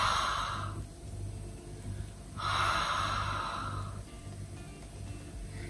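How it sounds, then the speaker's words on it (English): Ujjayi yoga breathing done with an open mouth and a constricted throat, as if fogging a mirror, giving two slow, close, breathy hisses, each lasting about a second and a half, separated by quiet pauses. "So I'd like you to imagine that you're trying to fog up a mirror with your breath."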